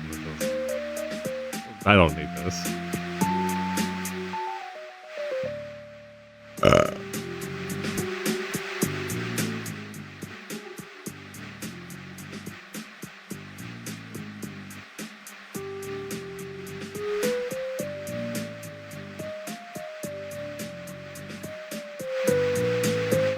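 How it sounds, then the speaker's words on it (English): Music from the desert sand level of the Shadow Generations video game, a steady synth melody with stepping notes over a rhythmic pulse, with a voice speaking briefly over it. "every game that has climate based levels, the sand level always sounds like this."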